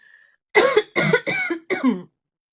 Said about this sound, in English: I have a bit of a cough there